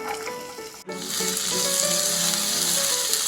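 Onion, garlic and three colours of bell pepper fry in a pan, a loud continuous sizzle that swells after a brief clatter near the start, with no talking.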